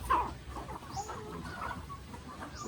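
A chicken clucks faintly and sporadically over a quiet outdoor background, with short soft calls scattered across a few seconds.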